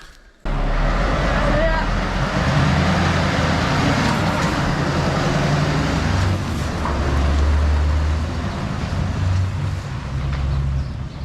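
A Ford 8210 lorry engine runs steadily close by as a low, continuous drone, holding constant for several seconds while someone talks over it.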